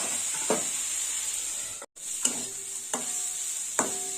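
Jukti flowers fry over low heat in a hot pan with a bright, constant sizzling hiss, broken by a few light clinks and a brief cut-out.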